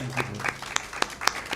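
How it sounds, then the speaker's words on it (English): Applause for panelists at a city talk session of a literary festival; a few scattered, fairly faint claps sound at a moderate distance, with a brief voice at the start. "Can we have a warm round of applause"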